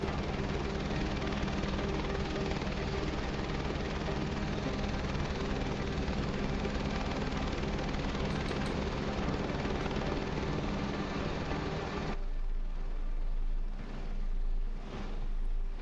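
Helicopter flying over water in Flight Simulator 2024, a steady whirring rotor and engine drone that runs unbroken for most of the stretch, then cuts to a much quieter hum near the end.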